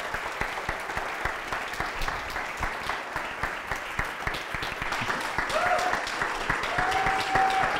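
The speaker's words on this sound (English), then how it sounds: "give them a big round of applause as they come up to the stage" Church congregation applauding as a couple released from eldership walk up to the stage, sustained crowd clapping that swells slightly toward the end while a few faint voices and tones rise beneath it.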